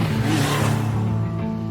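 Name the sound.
motorbike engine in an anime scene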